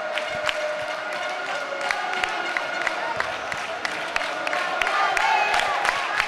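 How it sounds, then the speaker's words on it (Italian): Padova futsal supporters chant in an indoor arena during a Coppa Italia derby against Petrarca, a dense sustained crowd sound punctuated by sharp rhythmic claps or drum beats throughout. "Si alza sempre il coro dei tifosi biancoscudati."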